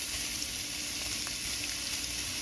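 Shrimp spread out in a hot pan fry with a dense, even crackling sizzle, close and steady throughout.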